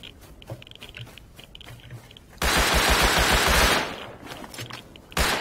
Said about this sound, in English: I'm shooting at a kid.